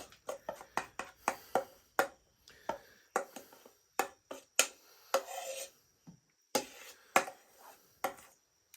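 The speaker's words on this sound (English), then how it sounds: "I'm just going to kind of spread this out in the bottom of this Dutch oven" A mixture being spread across the bottom of a lard-greased Dutch oven for cowboy beans and cornbread: a run of short, sharp scraping strokes in an uneven rhythm, close and distinct against near silence.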